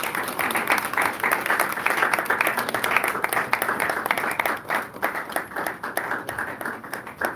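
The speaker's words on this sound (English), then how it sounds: "another resounding round of applause for Dr. Olushola Tosin" A conference audience claps steadily after a talk on AI and careers, dense sustained applause that swells and thins in waves with faint voices underneath.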